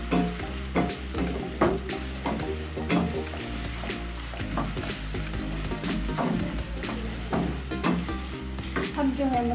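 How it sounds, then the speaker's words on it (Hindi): Garlic and ginger frying in hot oil for a fish curry, a continuous close sizzle broken by repeated scraping and clattering strokes of a spoon stirring the pan. "सबसे पहले हम लहसुन अदरक डालेंगे। थोड़ा मिक्स कर लेंगे।"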